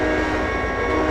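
An EMD diesel locomotive in the Trainz 2010 train simulator, a loud steady droning engine hum with a constant low throb, heard alone with no talk.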